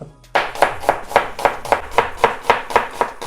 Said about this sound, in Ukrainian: Цибулю я буду різати напівкільцями